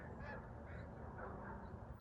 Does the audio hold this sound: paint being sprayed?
no